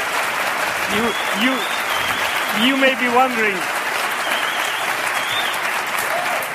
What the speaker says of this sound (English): You may be wondering why I'm clapping.